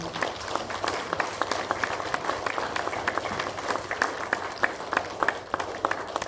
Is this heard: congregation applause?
yes